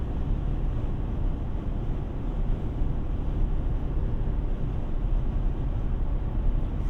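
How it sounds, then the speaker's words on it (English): Steady low rumble of wind and tire noise inside a moving 2024 Toyota Tacoma pickup with 6-speed manual on a windy day, continuous and even, with no talking. "What you do hear, though, is wind noise and is a little bit of tire noise."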